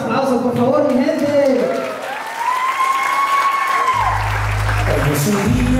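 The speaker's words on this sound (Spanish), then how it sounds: "acompañado de unos bellos aplausos, por favor, mi gente." Guests at a Mexican quinceañera party applauding the birthday girl, a loud, continuous crowd clapping with cheers, over background music and a voice talking through a sound system.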